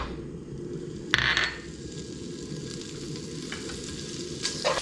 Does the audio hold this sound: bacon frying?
yes